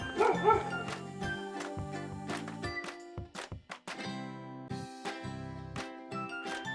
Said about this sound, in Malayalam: പട്ടിയുണ്ട്